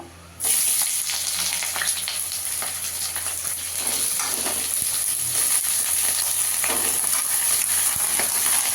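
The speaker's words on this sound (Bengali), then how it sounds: "এবার এঁচোড়টা ভেজে নেব।" Young jackfruit, parboiled with turmeric, fries in hot oil in a wok for doi echor, giving a steady, loud, dense sizzle that starts abruptly and holds without a break, with no voices.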